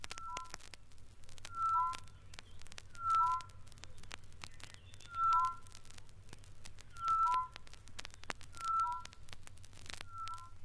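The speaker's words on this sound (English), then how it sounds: "When the tropical Boo Boo Shrike sings duets with its mate, the result is so close woven that it sounds like the voice of a single bird." A tropical boubou shrike pair sings an East African duet, the two voices so tightly interlocked they sound like a single bird: clear whistled double notes repeat about every one and a half seconds over a faint, steady background hum.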